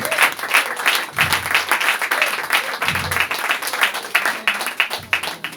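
A church congregation breaking into applause, a dense wash of clapping from many hands in a room, pulsing slightly in strength over several seconds.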